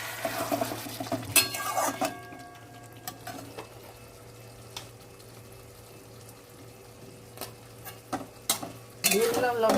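Chili pickle goes into frying food and is stirred, with scraping and clattering bursts at the start and end around a quieter, low sizzle and a steady hum in between, no voices.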